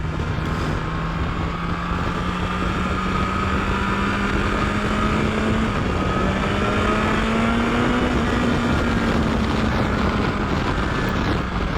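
BMW S1000XR motorcycle engine while riding, a steady, rising and falling engine drone with rough wind and road rush throughout, loud and continuous with no talking.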